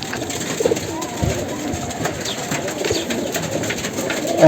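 Low cooing of high-flyer pigeons in a loft rumbles under background chatter and general noise, the birds fairly close amid a busy, cluttered setting.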